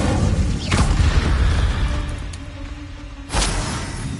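Incendio fire spell cast in Hogwarts Legacy, two loud booming whooshes of flame a few seconds apart over a rumbling game background.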